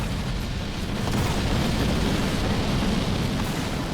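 Rain of Fire orbital bombardment in Halo Wars 2, a continuous loud rumble of overlapping explosions with no clear gaps between blasts.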